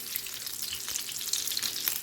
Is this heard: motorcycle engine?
no